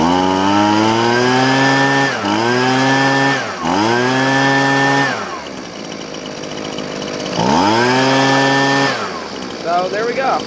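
A Husqvarna 125B handheld leaf blower's small two-stroke engine revs loudly up close, rising and falling in several throttle bursts with a brief idle dip between them before the last surge.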